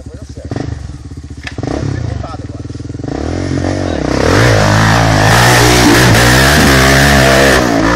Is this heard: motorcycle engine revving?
yes